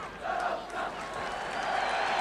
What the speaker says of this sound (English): And a big cheer now, which will greet the return of Stan Cummins